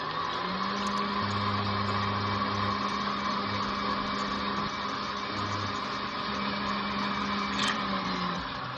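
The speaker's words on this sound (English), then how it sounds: "Let me place the mixer on high speed and let the egg whites mix until I get the consistency I'm looking for." An electric mixer whips egg whites on high speed, a steady, loud whirring motor hum with a constant drone that holds unbroken for the whole stretch, with no talking over it.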